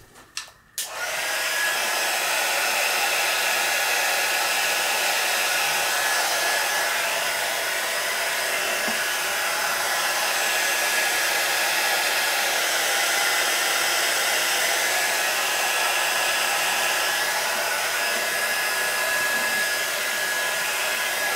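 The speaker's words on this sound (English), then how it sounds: "I'm going to pause y'all and dry this with a heat gun" A heat gun dries freshly applied black paint on a Halloween craft piece, blowing with a steady, loud, continuous whoosh that starts after a brief click and runs unbroken to the end, with no talk.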